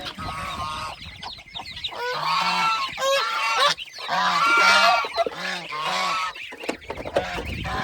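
Aseel chickens, chicks and a rooster on a farm give loud, repeated clucks and honking squawks close by, overlapping in a busy flurry throughout with no talking.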